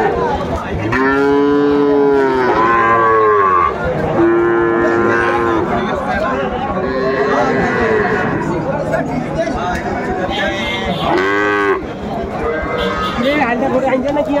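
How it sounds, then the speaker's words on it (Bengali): Sahiwal bull calves at a cattle market moo loudly several times in long, drawn-out calls, over a steady crowd murmur and nearby talk. "শাহিওয়াল জাতের ষাঁড় বাচ্চা"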